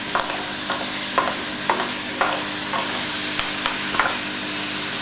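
Pinakbet vegetables are stirred in a pan, with steady sizzling under a regular series of spatula scrapes and knocks, about one each second, close by.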